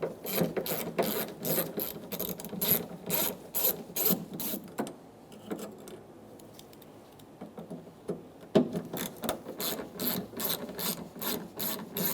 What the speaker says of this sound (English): Using a T20 bit, we're going to remove the 2 screws for the rear view camera.